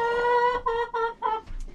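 Hens cluck in a deep litter chicken coop, a few close, drawn-out calls in quick succession with no talking.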